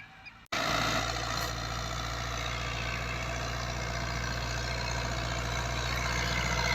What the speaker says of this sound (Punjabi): ਆ ਦੇਖ ਲਓ ਪਲਾਂਟਰ, ਟਰੈਕਟਰ ਸਲਿੱਪ ਵੀ ਚੰਗੀ ਕੱਢਣ ਲਿਆ। 640 ਟਰੈਕਟਰ ਆ।